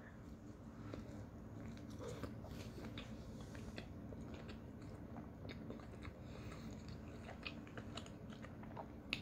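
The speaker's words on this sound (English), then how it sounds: "So now we're going to put the bun on, take a big old bite." Someone chews a big bite of a honey whiskey pulled pork sandwich on a bun, with steady close, moist crunching and mastication running continuously for several seconds without talk.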